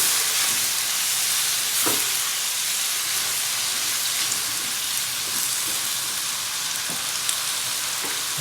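Pork pieces sautéing in a hot pan for Filipino dinuguan give a loud, steady hiss of sizzling, broken by a few soft clacks of stirring, with no talking.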